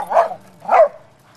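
A dog gives two short, loud barks about half a second apart, close to the microphone, with quiet in between and no talking.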